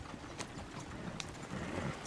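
A horse's hooves clip-clop faintly and steadily in the Western video game Red Dead Redemption 2, set against soft ambient background noise.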